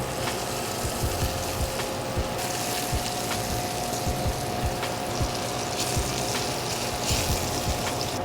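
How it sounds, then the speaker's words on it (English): Mushrooms sauté in a pan being prepared as a topping for a backyard pizza oven pizza, giving a steady broadband sizzle and fry with faint crackles and small pops throughout, moderately loud and continuous, with no voices. "I'm gonna saute these, let them cook most of the way"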